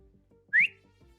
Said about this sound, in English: the old whistle rounds up everybody